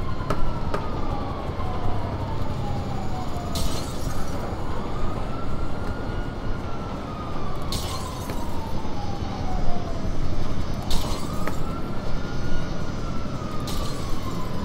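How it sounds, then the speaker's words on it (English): A loud, continuous rumble of a train passing in GTA V Online with rising and falling horn-like tones sweeping slowly, and periodic bursts of clatter every few seconds. "That doesn't sound good with the train coming nearby."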